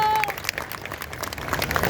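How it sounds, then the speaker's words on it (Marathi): Crowd at a birthday celebration for Eknath Shinde in Kisan Nagar clapping briefly, a dense patter of many hands with a voice audible over it. "जरा जोरदार टाळ्या एकनाथजी शिंदे साहेबांसाठी व्हायला"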